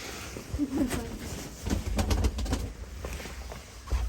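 A bird cooing in short bursts, with rustling and handling noise and some low thumps nearby.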